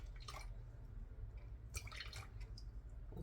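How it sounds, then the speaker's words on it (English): Green juice poured into a bottle, heard as faint, quiet trickling and dripping in a few short bursts against a low steady background hum, with no voices. "Pour a little bit out."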